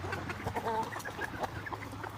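A flock of chickens clucks close by in a farm pack, overlapping soft chatter and short calls running continuously without talk.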